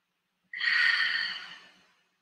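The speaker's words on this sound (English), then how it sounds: "One more big breath in." A single deep breath: a soft, close, airy inhale that swells quickly and then trails away as a long, steady exhale, heard alone in a quiet room during a guided breathing exercise.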